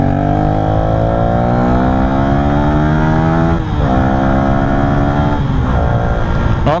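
A tuned Yamaha Y15ZR motorcycle engine running on a test rig, revving loud and close in long rising sweeps with a brief dip midway, steady and unbroken with no talk.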